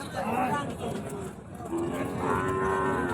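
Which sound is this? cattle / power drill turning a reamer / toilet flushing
cattle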